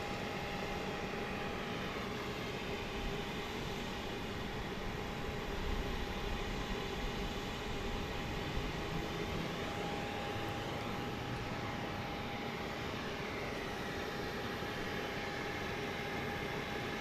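Southwest Boeing 737 Max 8 arriving from Denver on runway 31 left at Dallas Love Field at night, a distant, steady jet engine roar with a faint constant tone, no talking.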